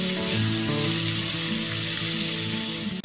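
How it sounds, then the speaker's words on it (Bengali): Sliced onion hits about two tablespoons of hot oil in a kadai for masala pasta, giving a loud, steady sizzle that fills the whole stretch with no talking. "কড়াইতে 2 টেবিল চামচ মতো তেল গরম করে নিয়ে প্রথমে দিয়ে দিচ্ছি পেঁয়াজ"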